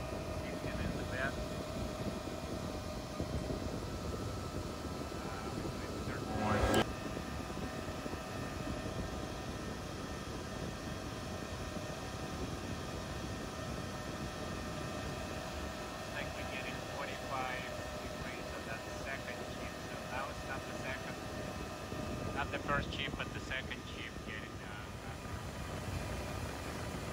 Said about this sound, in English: So we're running our fan at 5300 RPM.